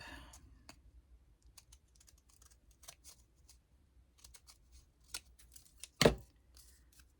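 Scissors trimming paper to make a pocket: sparse, quiet snips and clicks scattered through near silence, with one sharper, louder cut near the end.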